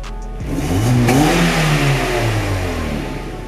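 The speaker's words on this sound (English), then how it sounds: "Throttle blip occurs on brake and clutch presses." A car with a manual H-pattern gearbox blips its throttle on a downshift, the engine note jumping sharply upward and then sliding back down as revs fall, loud and close.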